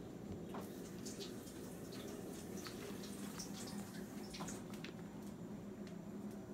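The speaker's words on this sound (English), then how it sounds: "Let me wash my hand." Tap water runs at a sink as hands are washed in a kitchen while cooking shrimp, a soft, steady faint trickle with small splashes and squishy rubbing sounds, no talking.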